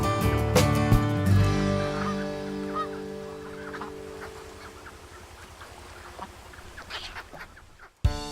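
Farm ducks and geese honk and quack in loud overlapping bursts early on, then thinning to scattered calls over a steady low engine-like hum, with a sharp thump near the end.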